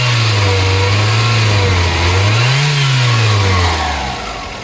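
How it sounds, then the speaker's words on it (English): A 1996 Toyota RAV4 L with automatic transmission and all-wheel drive runs loud and close, its steady engine drone climbing in one brief rev before settling and fading slightly. "It sounds exactly like you would expect a Toyota to sound."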